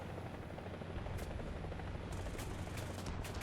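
A video game helicopter flies low with a steady whirring rotor drone, loud and continuous, with bursts of 20 mm cannon-like fire mixed in near the end.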